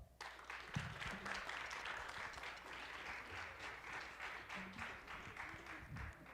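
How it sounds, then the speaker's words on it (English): Sustained audience applause fills the hall after a student jazz ensemble's set at a college jazz festival, dense steady clapping from a large crowd, with a few faint voices and whoops mixed in. "Another round of applause"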